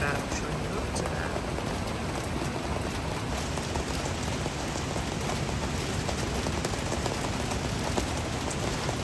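Heavy amber-warning rain during a typhoon in Hong Kong, a dense, steady hiss of rainfall pattering on surfaces, constant and enveloping for the whole stretch with no break.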